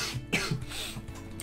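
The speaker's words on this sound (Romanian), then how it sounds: "Tuse asta mă omoară." A single short cough or throat-clear sounds close by over faint background noise in an ARK Extinction gaming session.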